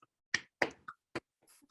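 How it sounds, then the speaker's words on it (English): A single person clapping hands as applause during a video call lecture: four or five sharp, close, separate claps with uneven gaps in an otherwise quiet room. "Sorry, everyone's muted. You just get my applause."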